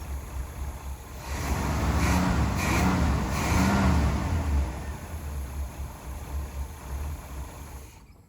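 A 1977 Pontiac Grand Prix engine runs with a steady low rumble that swells in a couple of revs while gears are tried, then settles and idles on close by, with no speech.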